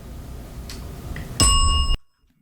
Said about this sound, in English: There was a very distinct click then before that bell went off.